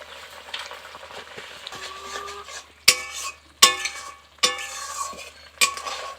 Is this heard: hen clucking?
no